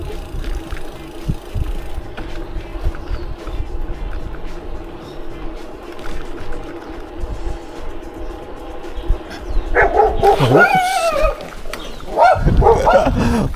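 A dog barking along a roadside near a highway, a few sharp barks standing out late over steady traffic and engine noise, with a person's voice briefly nearby.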